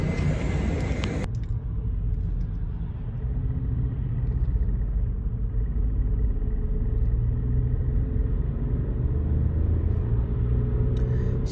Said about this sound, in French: Je sais pas si vous entendez, en fait la voiture elle a du mal à accélérer.